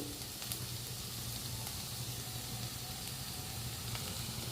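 Onions sizzle steadily in a pan for a Telugu-style fish curry, giving a close, continuous frying hiss with no talking.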